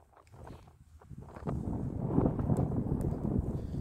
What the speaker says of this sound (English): this wind is like flying hard, man